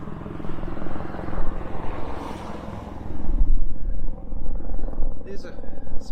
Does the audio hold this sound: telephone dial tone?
no